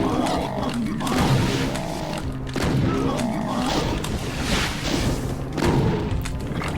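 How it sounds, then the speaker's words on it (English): Super shotgun blasts in Doom 2: TNT Evilution, with three heavy booming shots spaced a couple of seconds apart amid loud game noise and monster roars, no talking. "Get the super shotgun out."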